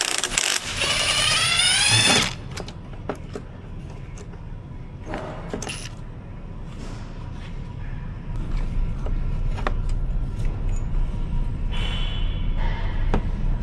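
A ratchet fitted with a 13mm socket works bolts loose on a VW Atlas AC compressor, with a short burst of rapid clicking first, then scattered light metallic clicks and clinks close by.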